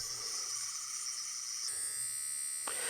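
A bootleg 10th Doctor sonic screwdriver toy gives off a steady high electronic buzzing whine that shifts pitch abruptly twice, close by and continuous throughout.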